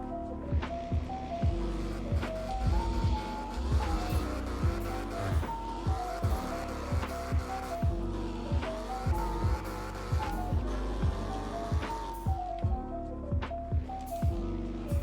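Engines of cars racing in a Roblox car game, including an Audi, a Fiat and a BMW, with a steady looping drone and repeated sharp rhythmic thumps as they shift and accelerate, no voices.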